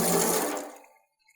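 Water gushes in a steady rushing stream from a garden tap hose cock fitted with a vacuum breaker, loud and close, then cuts off and fades to silence within a second.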